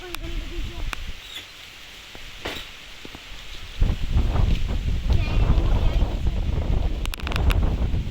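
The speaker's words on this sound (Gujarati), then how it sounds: "પવન પણ જોરદાર આવી ગયો છે" Strong wind gusts across an outdoor farm orchard, buffeting the microphone with a low rumble that swells much louder in the second half, alongside scattered clicks and handling noises.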